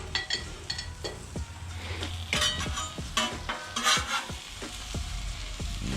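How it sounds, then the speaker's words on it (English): General Tso chicken being stirred on a Blackstone flat top griddle: close, sizzling hiss broken by repeated sharp scrapes and clacks of a utensil against the hot steel surface. "I'm gonna try to stir that up as best as I can."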